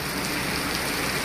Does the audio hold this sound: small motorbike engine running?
no